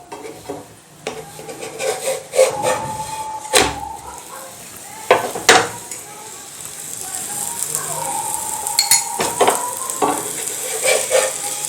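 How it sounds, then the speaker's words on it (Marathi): Methi and wheat-flour layered lachha paratha roasting in ghee on a pan, with a soft continuous sizzle broken by sharp scraping and stirring clatters of a spatula, close and moderately loud, with some talk in the background. "भाजून घ्यायचा आहे म्हणजे तो चवीला मस्त लागतो"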